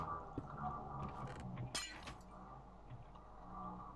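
A glass block shatters in Minecraft multiplayer Sky Block, a brief bright crack and tinkle near the middle, set against a low hum of game ambience.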